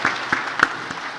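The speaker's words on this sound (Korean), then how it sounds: "우리 큰 박수로 감사를 표하겠습니다." A congregation at a church service claps, a short burst of scattered individual claps, close and fairly sparse, with no voices.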